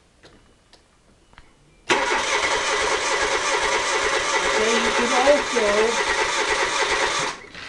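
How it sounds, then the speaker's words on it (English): A car engine cranks over on the starter with a steady, continuous churn that shows an uneven cadence from a cylinder with low compression, after a short quiet start with brief speech. "I'm going to go and crank the engine again"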